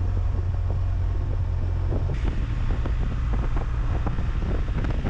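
Police motorcycle riding at speed, with steady, loud wind buffeting the microphone and a low engine drone throughout; no talking.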